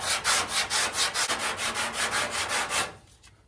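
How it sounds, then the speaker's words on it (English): Hand sanding with 80-grit paper on a block across a 1968 Pontiac Firebird fender during body restoration, a close, rhythmic rasping of rapid back-and-forth strokes that fades into quieter scuffs near the end. "we're gonna start sanding. Two hands on the block, don't put a lot of pressure on it."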